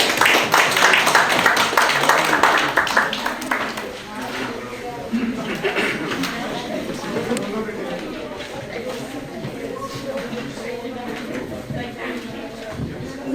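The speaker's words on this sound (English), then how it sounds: "Can we get a big round of applause for her?" An audience at a Quaid-e-Azam birthday event claps as a young speaker comes to the stage. Loud applause fills the first few seconds, then fades as a voice starts speaking.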